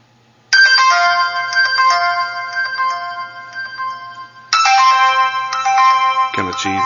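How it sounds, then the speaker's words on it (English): Ringtone on a Windows Mobile 6 phone: a bright, electronic melodic phrase played loud and close, repeating after a pause, with a brief bit of speech near the end. "they've got a new ringtone for Windows Mobile 6."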